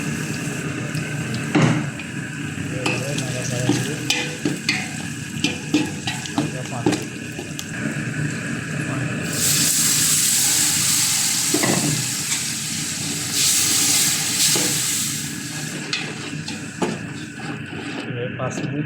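Chili powder, turmeric, salt and cumin are fried with browned onions in a pan, a low sizzle with spatula scrapes under intermittent talk, and two stretches where the frying hiss rises and swells louder.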